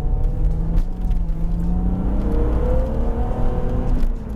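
A BMW Z3 M Coupé engine pulls under acceleration with a steady, loud revving drone and rising pitch, heard continuously up close with no talk.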